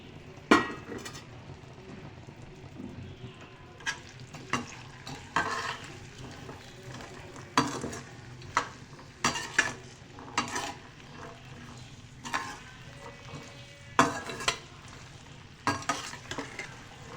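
Whole cumin seeds sizzle in hot oil while a spoon repeatedly scrapes and clacks against the pan, irregular stirring knocks over a steady frying hiss.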